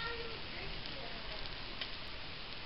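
Banana pancake batter frying in a pan gives a steady, faint, even sizzle of fine crackle that runs unbroken for the whole short stretch.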